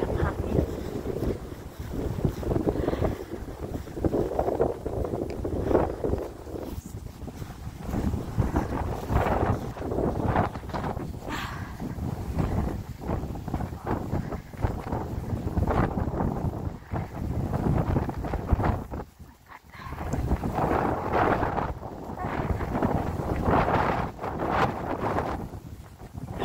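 Strong wind buffets the microphone in continuous roaring gusts, loud and close, with a short lull partway through.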